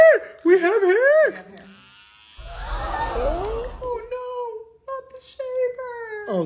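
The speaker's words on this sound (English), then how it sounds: "Oh no, not the shaver!" An electric shaver buzzes steadily for about a second and a half in the middle, set between bursts of crying and whimpering from a child before and after.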